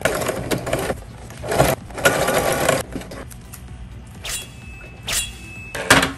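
A sewing machine zigzag-stitches along the unfinished, ravel-prone edge of a towel being made into a robe, running in several close, loud bursts with short pauses between them.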